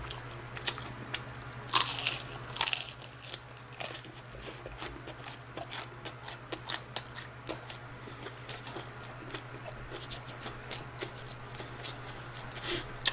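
Crispy Kyochon original fried chicken is bitten and chewed close to the mic, with sharp crunches clustered early and softer, irregular chewing crackles over a low steady hum.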